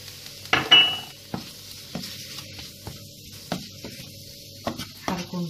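Onion frying in a pan for chicken tacos, heard as a soft sizzle broken by repeated sharp scraping and stirring knocks of a utensil against the pan.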